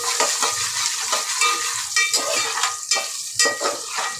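Crushed garlic and ginger sautéing in a pan, a bright steady sizzle broken by scraping stirs of a utensil against the metal at an uneven rhythm.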